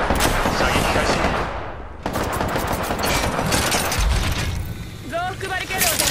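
Rapid bursts of automatic gunfire in the battle-royale shooter Apex Legends fill the scene loudly and continuously, briefly dipping before resuming, with a voice speaking over the shooting.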